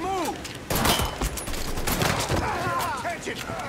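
Rapid gunfire in the video game Mafia 3, bursts of shots crackling densely and loudly from start to finish, with a strong burst near the one-second mark and sparse voice fragments mixed in.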